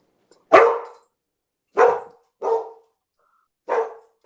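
A pet dog barks four times in a kitchen during cooking. The barks come close and sharp and are spaced with pauses between them, the second and third close together, with no talk in between.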